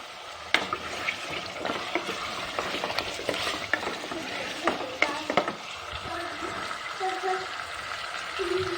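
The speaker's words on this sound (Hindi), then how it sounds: "हमारा लहसुन और अदरक जो है वो अच्छे से भून चुका है" Garlic and ginger fry on a high flame for chicken biryani, a dense steady sizzle with scattered stirring clatters and spatters, heard close up with no talk.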